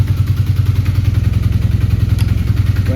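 A motorcycle engine idles close and loud with an even, rapid, steady thump, holding just under fifty throughout.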